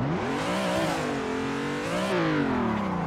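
BMW E30 engine in Assetto Corsa revs hard and steadily, pitch rising, dipping and climbing again as it winds up for drifting, loud and continuous with no talk.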